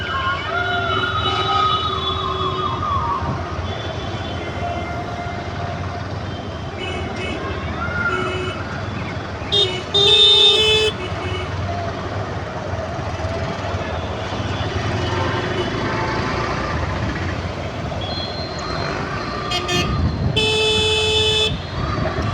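Heavy road traffic crawls past a crowded vegetable market, with a constant engine drone and several sharp horn blasts, some stacked together, cutting through around the middle and near the end.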